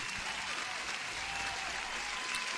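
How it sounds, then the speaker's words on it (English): Steady applause from a crowd, dense and continuous throughout with no voices over it. "Huge applause for Bray too."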